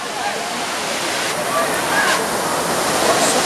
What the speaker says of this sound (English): the main attraction of this waterfall is the rhythm